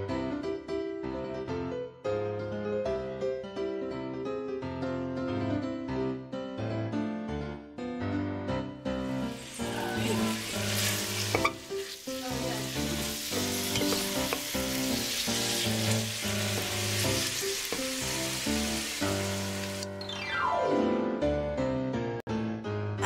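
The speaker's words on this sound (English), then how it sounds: "Add your garlic and chorizo to the pot and cook for 1 minute." Garlic and chorizo frying in oil in a pot on medium heat, a steady hissing sizzle that swells loudly midway, heard under continuous music.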